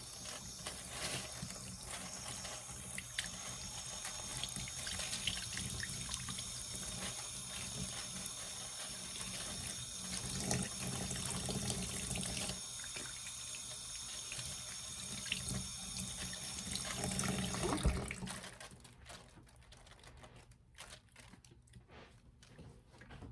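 A kitchen tap runs steadily into a sink while food is rinsed, a constant close rushing splash that swells slightly before cutting off near the end, leaving quiet room tone.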